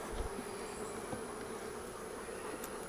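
Honey bees buzz steadily around an open hive during frame inspection, a faint continuous droning hum that holds even throughout with no talking.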